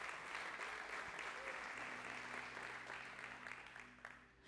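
A church congregation applauds together during an evening service, a steady wash of clapping that stays fairly soft and distant before tapering off slightly at the end.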